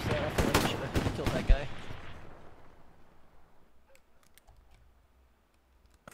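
Machine gun fire in a war video game, rapid loud bursts of gunshots up front that fade into a decaying rumble and then scattered faint clicks and distant shots.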